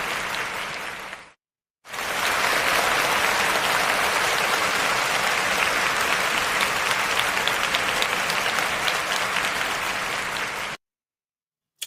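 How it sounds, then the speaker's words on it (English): An audience claps in dense, sustained applause for a woman who was just praised, loud and even for about nine seconds after a short opening burst and a brief gap, then stopping abruptly. "Let's give her a round of applause."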